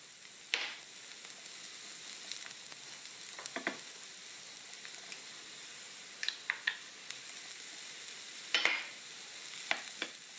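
Shrimp and mushrooms sizzle gently in a pan with a soft, steady frying hiss, broken by a few sharp clicks and scrapes of stirring.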